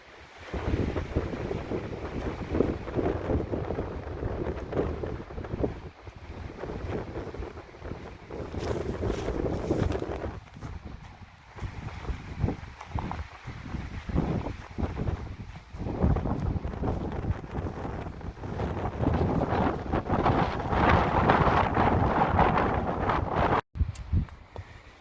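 Wind gusting outdoors in the mountains, buffeting the microphone in loud, uneven surges that swell and fade across the whole stretch.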